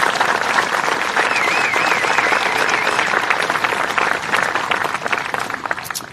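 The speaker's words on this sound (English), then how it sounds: "about another round of applause for those folks" An audience at a municipal band concert in Peoria claps in a loud, dense, sustained round that thins slightly near the end, with a whistle rising above it early on.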